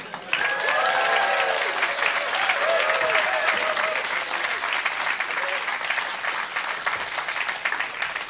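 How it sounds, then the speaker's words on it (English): A theatre audience at a Leicester Square comedy podcast recording bursts into loud, sustained applause that fills the room for the whole stretch, dense and steady, with a few whoops and cheers riding on top early on. "Thank you, and they applauded."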